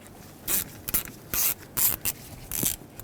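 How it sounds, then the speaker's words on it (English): A T10 socket ratchet works loose small screws holding the combination switch on a 2011-2016 Ford F-350, with short bursts of clicking and scraping in an irregular rhythm, close and fairly loud, no talk. "you're going to need a T10 socket so you can remove these 2 little screws holding the combination switch on"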